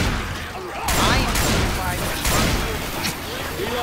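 Gunfire in the video game Left 4 Dead 2, dense bursts of rapid shots and booms with players talking over the shooting.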